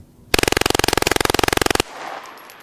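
A rifle fires on full auto in one loud, rapid burst of roughly two dozen shots lasting about a second and a half, followed by a quieter rustle.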